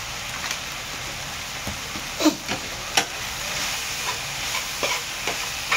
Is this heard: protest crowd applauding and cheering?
no